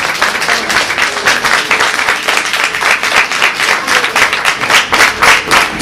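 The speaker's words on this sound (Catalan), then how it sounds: "Jo us demanaria a tots ells que els doneu un fort aplaudiment als Reis" Crowd applause for the Three Kings at a children's greeting and audience event in Canet, dense steady clapping from many hands throughout, fairly loud and close with no talk over it.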